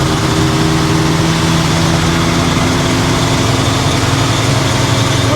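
A custom Ford cabover truck idles with a steady, loud low rumble and a constant engine drone and vibration, heard close up and alone throughout.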